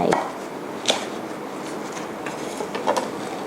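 Large vegetable stems being halved with a knife in a home kitchen while preparing a Thai mixed-vegetable soup, a few sharp chops against a cutting board spaced apart over quiet background.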